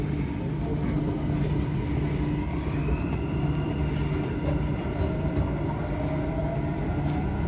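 A Dubai Metro train runs with a loud, steady low rumble and faint high squealing from the wheels, continuous throughout.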